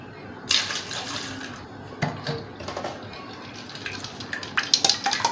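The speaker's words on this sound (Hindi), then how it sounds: "थोड़ा सा पानी और डालूँगी।" Water poured from a vessel into a cooking pot of chana pulao, splashing and trickling in short bursts with light clinks of metal, fairly close and moderately quiet, with no talking.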